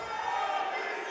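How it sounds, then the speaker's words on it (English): A hometown crowd cheers at a women's boxing match, a dense, steady roar of many voices filling the arena, loud and sustained with no break. "A big cheering section for Noriko Villar"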